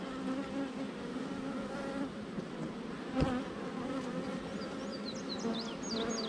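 Agitated honeybees at an opened hive in late-day light give off a dense, continuous buzzing drone close by, with individual bees whining past and a single soft knock midway.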